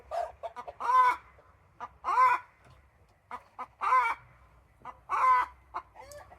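Chickens cluck in repeated bursts, a few loud squawking calls spaced about a second apart with softer clucks between, fairly close by.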